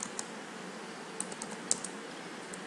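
Light keystrokes on a computer keyboard as text is typed into a word processor, sparse soft clicks spread unevenly over a quiet background hiss.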